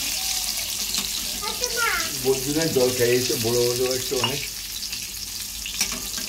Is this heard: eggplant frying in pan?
yes